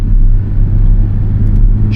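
A 2021 Porsche 718 Cayman T's turbocharged engine in Sport Plus mode with sport exhaust engaged, a loud, steady low rumble heard from inside the car for a couple of seconds.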